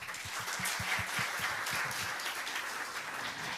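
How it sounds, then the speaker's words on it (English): An audience at a science camp event applauds, a steady, moderately distant wash of clapping that holds evenly throughout. "please give another big round of applause"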